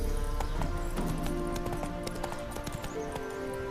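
Hooves of Roach, the horse in The Witcher 3 on PS4, clip-clop in a steady rapid gallop, close and loud, with a brief whinny and game ambience layered over the running.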